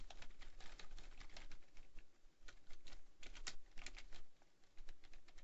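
Rapid, quiet clicking of keys on a computer keyboard comes in irregular bursts with short pauses, close and alone.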